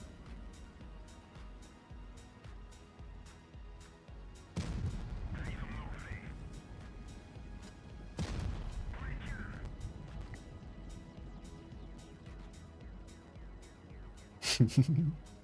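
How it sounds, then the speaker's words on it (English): Tank cannon shots in a video game, fired at the front of an enemy tank where its fuel tank sits: two heavy booms a few seconds apart with rumbling tails, and a sharp impact near the end. "Let's shoot the front where the fuel tank sits"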